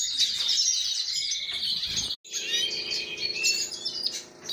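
A female goldfinch with two chicks, bright high chirps and twittering calls repeating close by, briefly cut off midway before the chirping resumes.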